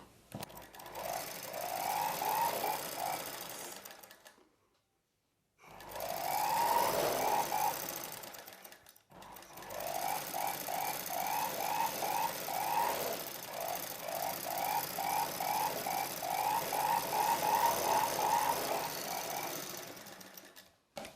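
A sewing machine runs in long steady bursts as it stitches a saree blouse piece and its lining together along the edge. The motor whirs close and loud, with a short pause between the first and second runs, then a long unbroken stretch.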